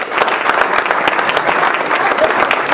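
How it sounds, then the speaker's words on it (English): Studio audience applause during a corporate mentalist stage show, a dense steady round of clapping lasting the whole stretch, loud and close with no talk over it. "Everybody give a round of applause."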